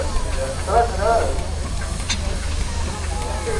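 A large steam road locomotive with a compound engine at a transport festival arena: a steady hiss with a low mechanical rumble beneath, and a brief sharper burst partway through, moderately near, amid crowd voices.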